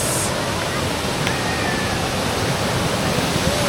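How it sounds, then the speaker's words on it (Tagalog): Tumalog Falls in Oslob, Cebu roars with a steady, dense rush of falling water, broadband and continuous throughout at close range. "We're here at Tumalog Falls."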